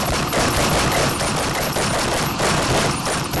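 Dense, continuous gunfire from guns in Hochland, a loud rapid fusillade like machine-gun bursts filling the whole stretch with no pauses and no voices.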